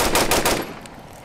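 Rapid rifle shots fired by a shooter wearing body armor with a plate carrier, a quick burst of four or five loud, close reports in the first half, then a fading echo.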